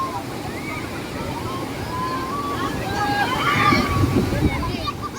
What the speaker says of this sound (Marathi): बघा भरती आहे आता समुद्राला.